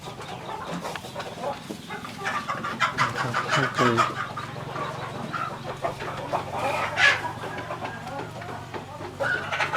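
A flock of native Pradu Hang Dam black-tailed chickens clucks and calls on a Thai poultry farm in a busy, continuous chorus of overlapping near and far bird sounds, with voices talking throughout.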